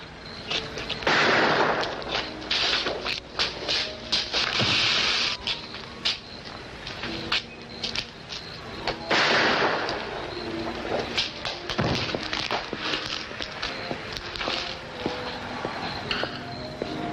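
Gunshots and thumps pop repeatedly in an old western film scene, loud and close, mixed with scuffling and bursts of noise across the whole stretch, with no clear speech.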